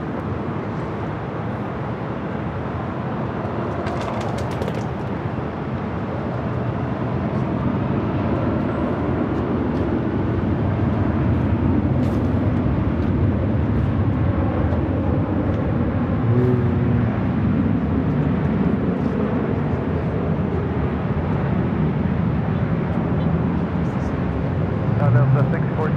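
An airliner takes off from a runway at LAX in Los Angeles, heard as a steady, broad jet roar that builds slightly and holds for the whole stretch under faint radio chatter.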